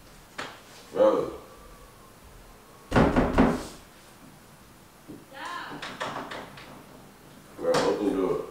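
Thumps and rattling of a door being pushed and forced from outside, several loud bursts spaced over the span, mixed in with shouting voices nearby.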